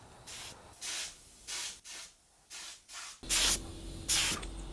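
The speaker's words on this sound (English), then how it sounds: "Got the parts sprayed out." A spray gun lays a coating onto KX250 two-stroke motorcycle parts in a garage. It hisses in about seven short bursts, and the last two are louder and closer.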